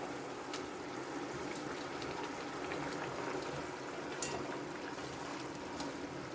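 Small koi fish sliding into hot oil in a Bengali spicy fish curry preparation, giving a soft, steady bubbling sizzle with faint crackles and pops, quiet and without talk.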